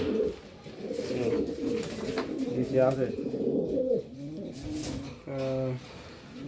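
Pigeons in a breeding loft give repeated rolling coos, nearby and fairly loud, heard around and between short bits of people talking.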